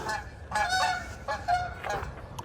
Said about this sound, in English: I'm competing with the geese